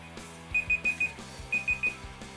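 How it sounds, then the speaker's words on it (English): A workout timer alarm beeps in two bursts of four quick shrill pulses, fairly close and distinct over a low background hum during a home exercise session. "just keep doing squats till you hear that timer"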